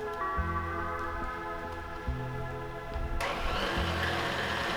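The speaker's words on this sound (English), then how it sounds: "I'm gonna use the KitchenAid attachment here just to make it a little easier" A KitchenAid mixer running its pasta roller attachment gives a steady, close electric motor hum with a tonal whine, shifting to a rougher, noisier drone partway through.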